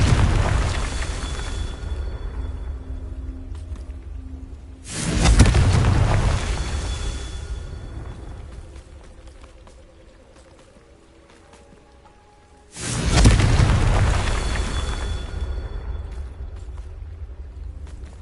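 Two booming Confringo spell explosions in Hogwarts Legacy, each a sudden heavy blast that rolls into a long, slowly fading rumble and debris patter, spaced several seconds apart.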